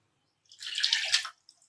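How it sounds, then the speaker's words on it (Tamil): Water poured into a mixer jar while rinsing it in a home kitchen, a short splashing gush of about a second that starts and stops abruptly, with a faint trickle after and no talk. "மிக்சி சாரை கழுவி கொஞ்சமாக தண்ணி ஆட் பண்ணிடலாம்."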